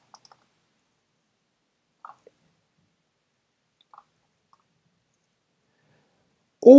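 Computer mouse clicks during a block-coding loop lesson: a handful of faint, sparse single clicks separated by long silences, then a brief louder burst at the very end.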